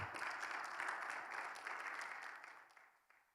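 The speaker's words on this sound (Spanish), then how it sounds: "Den un fuerte aplauso, Señor, por favor." Congregation applause at a Bible seminary class, a dense wash of clapping that holds steady and then thins out and fades toward the end.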